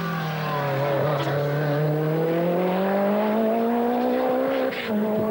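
Peugeot rally car from the 1986 Sanremo Rally on a mountain stage, engine roaring loud and close with a steadily rising pitch as it accelerates hard throughout, alone without talk.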